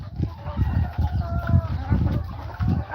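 Roosters in a neighborhood yard cluck in repeated low pulses with harmonic calls layered over them, a busy mix of fowl sounds that continues throughout.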